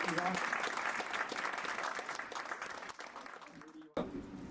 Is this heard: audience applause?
yes